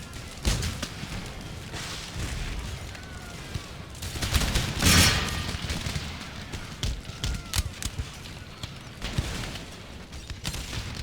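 Scattered musket volleys and artillery booms on an Empire Total War battlefield, irregular cracks and thuds at moderate distance, with one heavier blast partway through and quieter popping around it.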